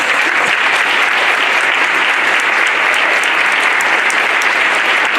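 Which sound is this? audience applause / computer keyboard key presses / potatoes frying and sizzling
audience applause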